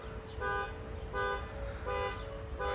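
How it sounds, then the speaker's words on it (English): A car alarm going off on a windy day, its tonal honking bursts repeating in a regular pattern, about four pulses heard at a moderate distance over low rumbling wind noise. "The car alarm's going off."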